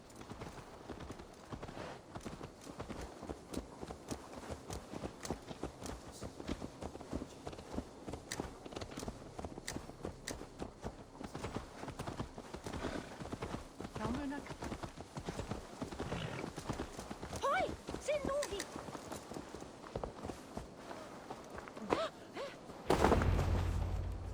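Horse hooves clip-clop at a steady walking pace throughout, close and even, in the video game Assassin's Creed Valhalla, with faint ambient game sounds and a sudden louder burst at the very end.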